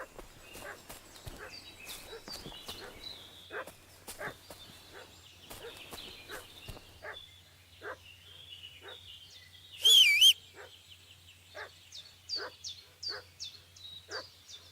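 A dog in the video game Kingdom Come: Deliverance II barks repeatedly in short, sharp bursts at an uneven pace, with bird chirps scattered around and a brief louder squeal near the end.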